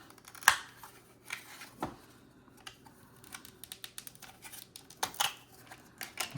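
A 1987 U.S. Constitution 200th anniversary commemorative silver dollar is popped out of its plastic holder: a few sharp, close plastic clicks and snaps come in irregular bursts over a quiet background, with no talking.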